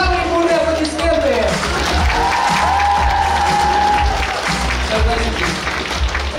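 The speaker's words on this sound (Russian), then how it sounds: "Самым юным участникам нашего фестиваля самые бурные аплодисменты!" Audience applause at an anime convention costume parade for its youngest participants, a dense clapping crowd with some cheering, under a host's amplified voice speaking over it.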